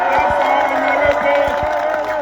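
A crowd at a political rally for Maurice Kamto in the Yaoundé conference centre roars with cheers and whoops, a dense steady wall of voices under which a few scattered claps can be picked out.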